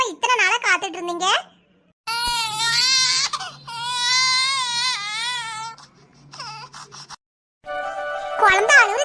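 A newborn baby cries in loud, wavering wails broken by short pauses, each burst rising and falling, fairly close and alone without other sounds.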